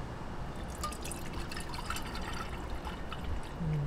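Sago and gulaman palamig drink with brown sugar syrup poured through a strainer, a continuous close trickle and drip of liquid with a steady wet splashing texture and no talking.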